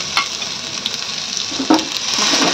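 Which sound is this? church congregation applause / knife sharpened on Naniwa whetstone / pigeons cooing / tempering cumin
tempering cumin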